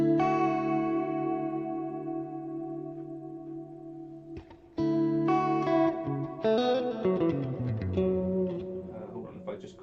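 Electric guitar played through a Line 6 Helix with low and high cuts shaping a lo-fi tone: sustained ringing chords first, then a brighter run of picked notes and chord changes, alone without talk.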